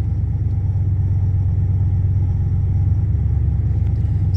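A RAM 1500 4x4 pickup with a TorqStorm supercharger and water/meth injection drives along, giving a steady loud low engine and road rumble that continues throughout.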